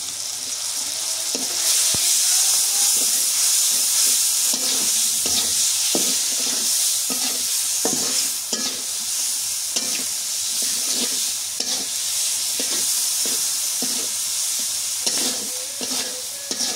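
Onion paste and salt sizzling loudly in a hot pan, a dense steady hiss carrying on throughout while a utensil stirs and scrapes in a fairly regular rhythm, close up, with no talking.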